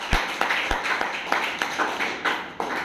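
An audience at an AWPL Kanpur team business meeting claps in a fairly even, rhythmic beat, sharp hand strikes landing roughly three times a second over a reverberant room.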